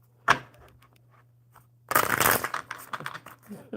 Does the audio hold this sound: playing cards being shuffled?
yes